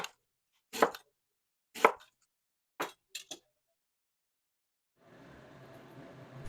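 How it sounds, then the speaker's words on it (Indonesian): A knife slices through ginger on a board in about five sharp, separate strokes, close and clear, followed by a soft hiss. "Setelah mengiris bawang dan jahenya selesai ya"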